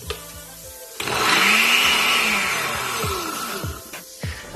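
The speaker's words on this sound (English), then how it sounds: "Right now we're just gonna end up blending it" A blender whirs loudly through a thick pupusa filling for a few seconds, its motor straining and dipping in pitch as the mix bogs down, then cutting off, with short bumps and pauses near the end.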